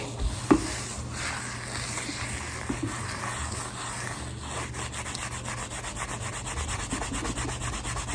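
Dawn cleaning wipe rubbed back and forth over a stained surface, a soft continuous scrubbing and swishing close up with one brief louder knock, no voices.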